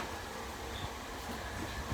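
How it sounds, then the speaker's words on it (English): Interior of a moving train on Thailand's Death Railway, a loud continuous rumble of wheels on track with steady rattling throughout, no voices. "So this is inside the train."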